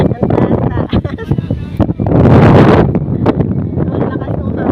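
Strong wind gusts buffet the microphone outdoors, with a loud roaring burst midway, while people talk between the gusts.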